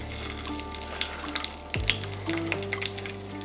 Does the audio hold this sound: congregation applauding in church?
no